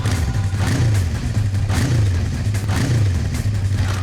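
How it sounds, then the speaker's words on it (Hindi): A loud motorcycle engine revs repeatedly, its pitch rising and falling in a steady rhythm, close and continuous with no voices. "हम तुम्हें कुछ बाइक्स की आवाजें सुनाएंगे।"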